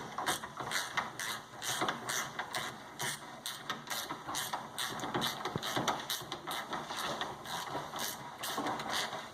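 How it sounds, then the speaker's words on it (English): A torque wrench tightening a bolt on a suspension part, producing a steady, even series of close mechanical ratchet clicks repeating for several seconds without talk. "Give it a good torque. Go. Spin that in."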